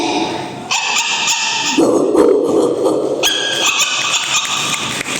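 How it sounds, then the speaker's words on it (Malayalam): Several dogs bark and yelp over one another, loud and close, in a continuous noisy chorus with occasional whining. "ഈ പട്ടികളുടെ കൂട്ടം അങ്ങനെ കിടന്ന് ബഹളം വെക്കുന്നു"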